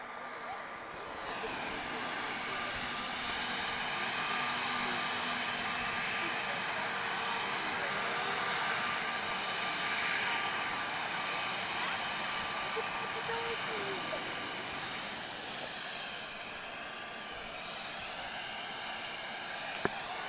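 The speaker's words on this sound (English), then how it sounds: "We've got an A330-200 on the move" An Airbus A330-200 airliner taxiing at Lisbon Airport makes a steady, broad jet engine roar that holds at an even level throughout, with a person talking over it.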